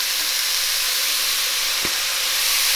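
Ground meat browning in a pot for bolognese, a dense, steady close sizzle and hiss throughout, with a single soft knock near the end and no talk.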